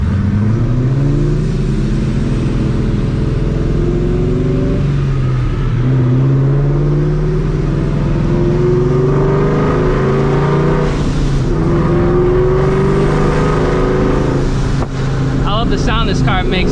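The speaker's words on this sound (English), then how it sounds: "The sound this car makes echoing like against walls." A deep, loud supercharged New Edge Ford Mustang GT exhaust with Borla system rumbles and revs in rising sweeps, echoing off walls, with a voice talking over the engine.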